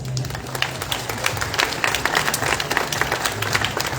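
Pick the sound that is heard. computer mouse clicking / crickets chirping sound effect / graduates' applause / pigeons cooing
graduates' applause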